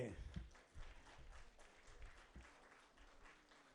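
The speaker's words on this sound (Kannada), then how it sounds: "ಚಪ್ಪಾಳೆ" An audience at the Vaidya Seva Ratna 2024 award ceremony honouring doctors claps. The applause is faint and distant, with a brief strong burst at the start, and a voice speaks over it.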